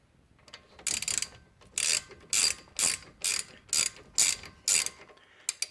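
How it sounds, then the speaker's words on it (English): A ratchet wrench cranks down a 14mm caliper bracket bolt during a front brake pad job on a Suzuki Kizashi, giving about ten sharp, evenly spaced bursts of clicking, close and fairly loud, with no talking. "you can put back in your 14mm bolt into the caliper bracket."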